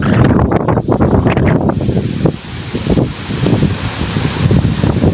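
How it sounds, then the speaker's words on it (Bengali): Strong, gusty wind roars steadily and loudly as a sudden storm strikes an outdoor spot where people are walking, the blustery noise buffeting close with no speech. "শুধুমাত্র বাতাসের আওয়াজটাতে বোঝা যাচ্ছে যে কি পরিমাণ বাতাস হচ্ছে এখানে।"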